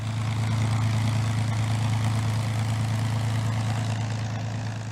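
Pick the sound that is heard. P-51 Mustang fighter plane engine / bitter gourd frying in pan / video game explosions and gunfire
P-51 Mustang fighter plane engine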